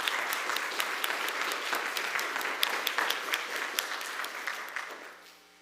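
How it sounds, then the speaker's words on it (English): Seated listeners at a session on the art and science of feathers deliver a big round of applause, steady dense clapping that holds for several seconds before fading out at the close. "Let's give Andrew another big round of applause."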